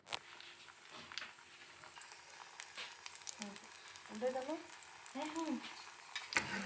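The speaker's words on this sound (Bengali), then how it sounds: "এখন আমি পরোটাটা ভেজে নিব।" Egg-dipped paratha frying in hot oil in a wok over medium-low heat, a soft steady sizzle with light scraping and spatula clinks, fairly quiet and close, with brief bits of voice in between.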